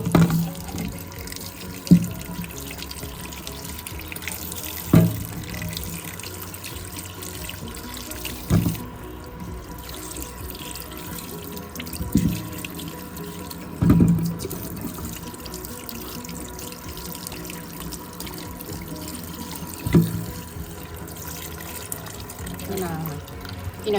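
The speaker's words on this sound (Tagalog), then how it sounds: "hugasan muna natin ha" Local fruits, including guava, are washed under a running household tap: a steady stream of water into a sink, broken by periodic louder splashes and knocks as the fruit is handled.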